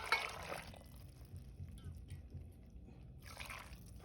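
Chicken broth poured into a blender in a home kitchen, with a short splashy pour at the start and another near the end, faint and close, and quiet stretches between.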